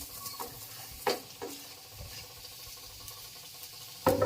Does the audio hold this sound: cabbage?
yes